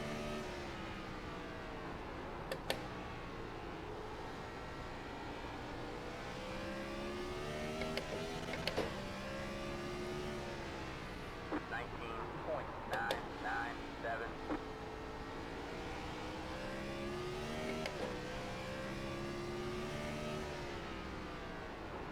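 Gen 4 race car engine at Martinsville in a racing video game, droning steadily with rising and falling pitch through laps, alongside the sound of another car running close behind.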